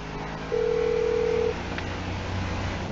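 In Grand Theft Auto V, a phone call plays on speakerphone: a steady electronic telephone tone sounds for about a second over low game background noise.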